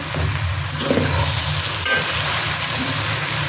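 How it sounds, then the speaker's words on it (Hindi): A spice masala being stir-fried in a pan for a ridge gourd curry gives a constant close sizzle with faint scraping and stirring movements mixed into the hiss. "अब इस मसाले के अंदर जो है हम इसको अच्छे तरीके से भूनेंगे।"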